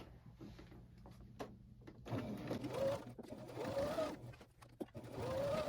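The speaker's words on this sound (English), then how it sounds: "I'm going to stitch all around that area at a 1/2 inch seam allowance." A sewing machine stitches a dress seam at a half-inch allowance, running in several loud bursts of whirring with brief pauses between, close by and with no talking.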